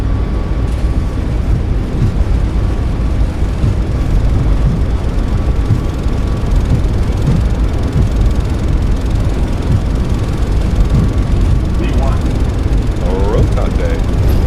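Boeing 737 MAX 8 takeoff roll at takeoff power in Microsoft Flight Simulator 2024, a loud steady engine roar and rumble from the cockpit that holds constant, with brief speech near the end.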